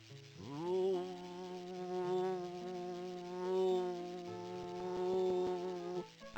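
A booster station in the 1996 game Normality gives off a steady, droning electrical buzz with a rich harmonic hum. It swells and fades gently for several seconds and is heard alone, without talk.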